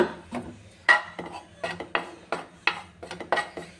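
Gram flour roasting in a pan while being stirred, heard as a run of sharp utensil scrapes and clinks against the pan at a steady, uneven rhythm, close and fairly loud with no talking.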